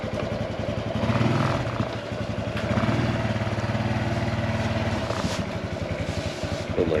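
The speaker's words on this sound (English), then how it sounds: "I can get a motorcycle in, right?" A motorcycle engine chugs and idles nearby as the bike is moved into a garage, a loud, pulsing putter that rises and falls in revs.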